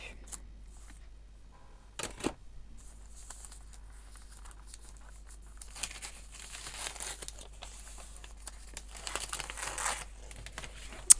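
Sheets of blue paper from a small pad in an advent calendar crinkle and rustle at close range, with a sharp snap near the start and then steady soft handling that grows busier toward the end.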